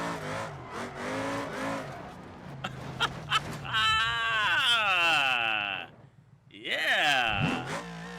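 A car drifts in the BeamNG game, its engine revving and tires squealing in long, wavering high-pitched screeches, loud and up front, under a voice talking at the start.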